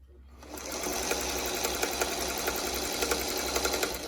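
A sewing machine stitches quilt squares together with a 1/4 inch seam, a steady fast mechanical whir with rhythmic needle clicks running continuously and close by after a brief start.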